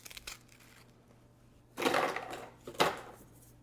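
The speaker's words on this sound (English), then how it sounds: "Now I'm using the food processor today, but you can also crush them in a Ziploc bag with a rolling pin." A food processor crushes graham crackers in two short, loud pulsed bursts, the first longer than the second, after a quiet stretch with faint clatter.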